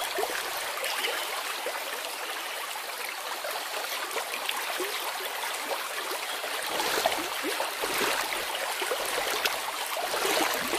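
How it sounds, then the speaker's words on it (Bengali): A boat glides along a river at night as a cartoon sound effect: steady, rushing water with gentle lapping, continuous and fairly close, with no voices. "আবির নৌকায় বসে পড়ে। নৌকা চলতে থাকে।"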